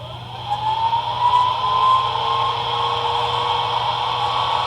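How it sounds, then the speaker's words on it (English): A Bachmann PRR GG1 electric model locomotive's DCC traction motor sound: a steady electric whine with a rising tone that settles into a constant hum, holding level throughout with no voices. "Function 5, I believe, is the traction motors."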